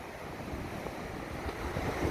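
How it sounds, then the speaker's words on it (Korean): Sea waves wash steadily off Namae-ri beach in Yangyang on a morning shore, a continuous broadband surf rush mixed with wind, fairly faint and without any voices. "이상 파도 소리 들으면서 마치도록 하겠습니다"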